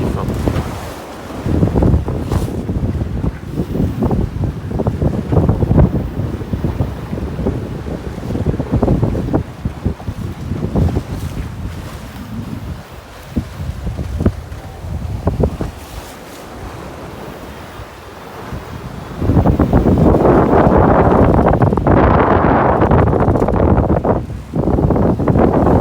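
Strong wind of up to 22 knots roars across the microphone aboard a sailing boat at sea between Gijon and Les Sables d'Olonne, a loud buffeting rush over splashing waves that surges even harder toward the end.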